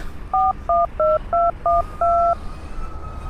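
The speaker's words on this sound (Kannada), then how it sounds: "ಎಲ್ಲಿ ಫೋನ್ ಹಚ್ಚಲಿ ಅವ್ರಿಗೆ ನನ್ನ ನಂಬರ್ಗೆ ಹಚ್ತೀನಿ" Telephone keypad tones as a number is dialed: six crisp two-tone beeps in quick succession, the last held longer, alone over faint background hiss.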